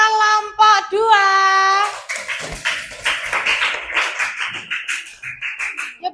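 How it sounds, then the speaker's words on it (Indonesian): A third-grade class at a primary school claps for a group of classmates, a dense burst of small hands clapping under children's chatter, after a voice sings or calls out briefly at the start. "Tepuk tangan untuk kelompok 2"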